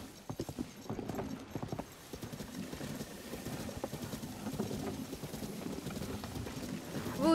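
Hooves of wild horses clip-clop steadily and fairly close in an open outdoor setting, a continuous uneven trotting rhythm with occasional faint snorts, while someone speaks quietly now and then over it.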